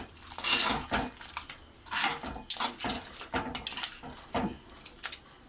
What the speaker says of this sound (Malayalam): 1 സ്പൂണ് ചെറുനാരങ്ങ നീര്, അതും കൂടി വെച്ചിട്ട് നല്ലോണം ഒന്നും കൂടി ഇളക്കി കൊടുക്കുക